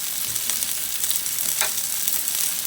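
Chicken sizzling and frying in a pan for teriyaki, a steady broadband crackle that stays even and close throughout, with a brief louder spatter near the middle and no talking.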